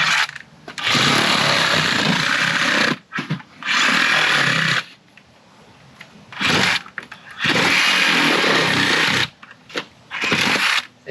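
A power tool trimming tin culvert pipe during a drain installation, loud harsh cutting bursts of a few seconds each, separated by short pauses and quieter gaps.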